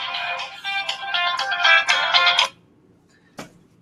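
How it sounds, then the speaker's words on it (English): A phone ringtone plays loudly and close for about two and a half seconds as a repeating electronic melody, then stops, leaving near silence with one brief knock near the end. "Sorry, my phone is ringing."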